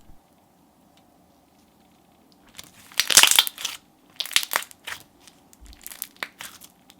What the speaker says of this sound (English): It had a good stretch to it, and it was also pretty crunchy at the same time.